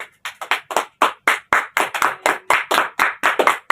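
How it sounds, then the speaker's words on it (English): A small audience claps after group presentations in a classroom setting, a sparse run of about seventeen sharp, distinct claps in an uneven rhythm, close and fairly loud, with a single brief spoken word. "give them applause from the great presentations"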